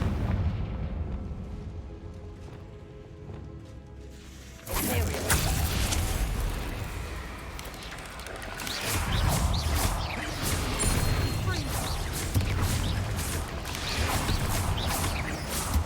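A Confringo fire spell detonates in a wizard video game, booming blasts followed by a dense, crackling rumble of debris and rolling explosions that stays loud.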